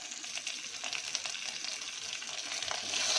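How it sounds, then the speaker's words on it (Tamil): Mustard seeds, fenugreek and shallots frying in groundnut oil give a steady, close hiss and crackle with small pops throughout. No one talks. "கடுகும் வெந்தயமும் கொஞ்சம் போடுறேங்க. இது தீயாமல் பொரியட்டும்."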